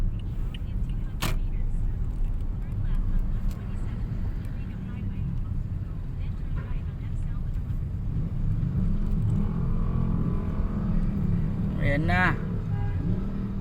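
Slow, congested road traffic in Caloocan: a continuous close rumble of engines and passing vehicles, with a brief rising whine or horn near the end and a short spoken phrase.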